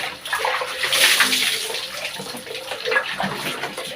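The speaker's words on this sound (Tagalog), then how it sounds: "Dami tayo ng tubig, buhos tayo." Water splashing and pouring as someone bathes, dousing their shoulders and upper body, a close rushing wash that swells and fades in uneven surges.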